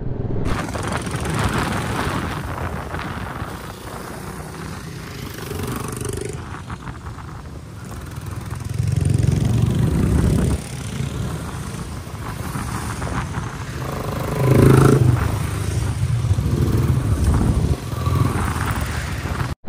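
Motorcycle engine droning steadily throughout a group ride on the way to Mini Ilam, with loud rumbling surges and wind noise, no speech.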